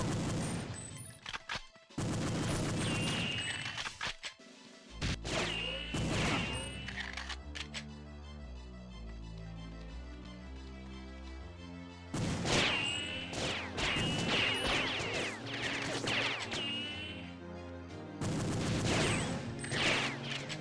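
Loud bursts of explosive blasts and gunfire in the Perfect Dark Kai mod, with a flashbang going off among them; sharp cracks come in clusters, with a quieter musical stretch between the louder volleys.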